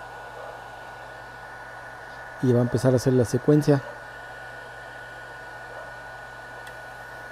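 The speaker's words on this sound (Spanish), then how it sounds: "Y entró el ventilador." The blower fan on a gas burner control runs as a steady, airy whir with a faint tonal hum throughout. Someone speaks briefly over it in the middle.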